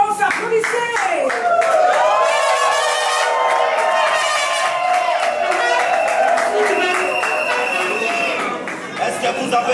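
Wedding guests at a civil marriage ceremony at a town hall clap and cheer together, a dense, steady burst of applause mixed with crowd noise and voices that carries loud for nearly ten seconds before easing slightly at the end.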